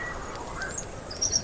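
Short, bright chirps of a migratory bird sound faintly over a soft background hiss, with a couple of clearer high calls near the end.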